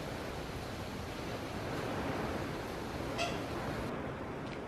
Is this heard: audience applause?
no